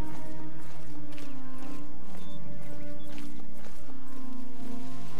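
Horse hooves clopping in the video game The Elder Scrolls IV: Oblivion, just outside a city, steady under a dense, loud game soundtrack and ambience.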